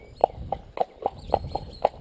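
A horse walks on at a steady pace, its hooves striking in a regular clip-clop rhythm of about seven clear, close footfalls with no talk.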